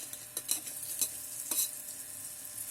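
Upma ingredients being mixed inside an electric kettle, a few quick scraping stirs at close range over a steady, quiet frying sizzle, with no voices.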